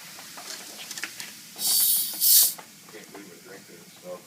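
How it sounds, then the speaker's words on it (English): Coca-Cola fizzing on an old plumbing fitting gives two short bursts of bright hiss, each about half a second long, amid soft background voices and faint crackling. "Listen to that thing sizzle."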